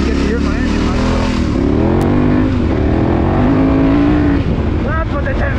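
A KTM 1090 motorcycle engine revs hard while riding offroad, a loud, continuous roar whose pitch climbs and falls as the throttle opens, with wind rush throughout.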